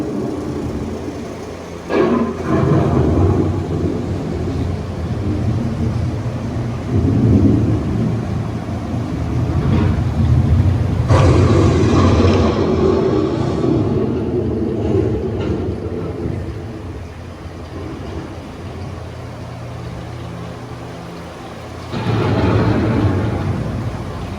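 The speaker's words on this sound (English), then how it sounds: "The approaching storm may seem violent and destructive to us" A simulated thunderstorm effect on EPCOT's Living with the Land ride, with deep rolling thunder rumbles rising and fading over continuous rain-like noise.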